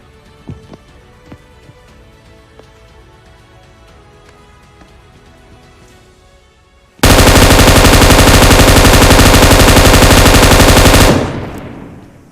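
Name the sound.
gunfire in a video game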